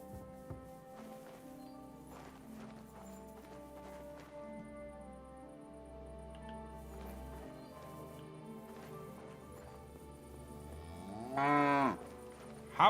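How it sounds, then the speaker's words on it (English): Cattle moo in long, low, drawn-out calls at night, several overlapping at middling distance, with one louder, closer bellow near the end. "How are you guys sleeping with these cows?"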